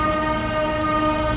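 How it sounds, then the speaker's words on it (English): Train at a station sounding a loud, sustained horn with steady tonal chords, close by and drowning out everything else, with a faint rail rumble beneath. "There goes the train right now."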